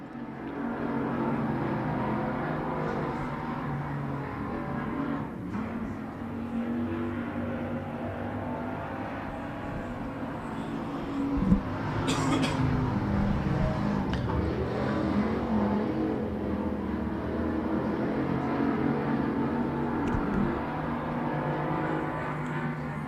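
Race cars running laps at Lonestar Speedway, a dirt track, during the Spring Nationals. The engines make a steady, distant drone throughout, with a brief sharp knock near the middle and no voices.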